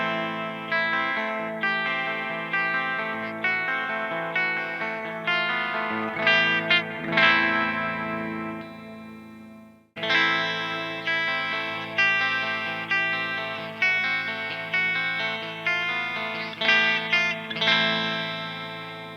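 An electric guitar riff plays on the bridge pickup through an Earthquaker Ghost Echo reverb. Strummed, distorted chords ring with repeated attacks and a reverb tail, and there is a brief break midway before the riff resumes.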